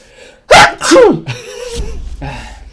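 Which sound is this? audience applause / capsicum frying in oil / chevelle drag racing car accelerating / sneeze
sneeze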